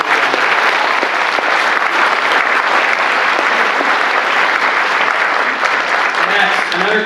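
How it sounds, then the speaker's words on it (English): Dense, sustained audience applause fills a convention hall at an X-Men comics panel at C2E2, loud and continuous throughout with some cheering mixed in. "So round of applause for Brian, for Jordan,"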